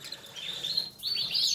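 Gloucester canaries in a breeding aviary giving bright, high chirps and short trills, fairly close and clear over a quiet background.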